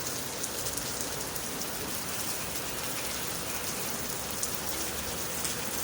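Rain comes down steadily outdoors, a continuous hiss of drops on hard surfaces with a few sharper nearby taps, even in level throughout and free of speech.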